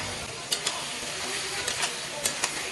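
Koi fish frying in a pan with olives and green chilies gives a steady sizzling hiss, broken by a few sharp scraping stirs near the start and near the end.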